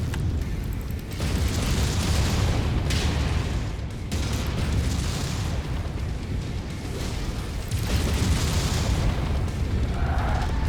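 Missile explosions in the MechWarrior 5 game, a sustained barrage of deep booms and rumbling blasts rolling on continuously, loud and dense throughout with no talk.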